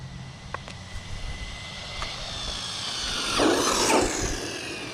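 DeeRc 1217 RC car racing at full throttle, its electric motor a thin rising whine that swells and passes close by around the middle of the run, over steady outdoor background noise.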